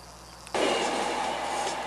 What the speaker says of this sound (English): you spend a lot of time waiting for trains to go by here in Europe